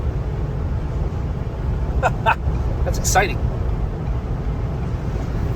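Steady turbo whoosh and road rumble inside a 2022 Ford Bronco Black Diamond Sasquatch with a soft top, a loud continuous drone under a man's brief speech.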